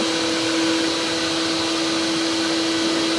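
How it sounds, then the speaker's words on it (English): A vacuum cleaner hoovers up sawdust after a workbench is cut out in a jewellery workshop, giving a steady, loud, unbroken whine with a strong constant tone that holds alone for the whole stretch. "it's my job to now hoover up the dust"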